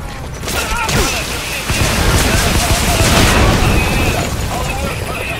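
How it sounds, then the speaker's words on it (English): Rocket barrage in Metal Gear Solid V: The Phantom Pain, a dense, continuous roar of overlapping booms and bursts from launched rockets and explosions, loud and sustained throughout with rumbling low end. "Rockets away."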